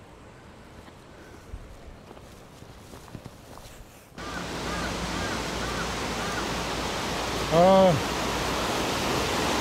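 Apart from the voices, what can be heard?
mountain valley stream flowing, Piagol, Jirisan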